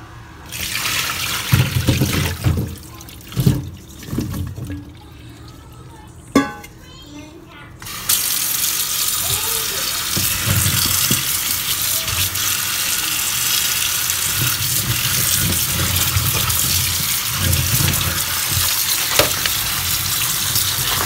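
Lotus root being rinsed under a running kitchen tap: a few clinks and handling sounds at first, then a steady, close rush of water that continues to the end.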